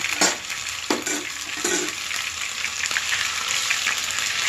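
Green chilli pickle fries loudly in a hot pan with ginger garlic paste, a dense hiss broken by sharp spluttering pops near the start before settling into steady sizzling.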